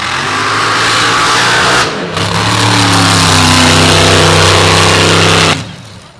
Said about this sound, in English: 512 screw-blown Rodeck engine, the aluminum version of the Chevy Big Block.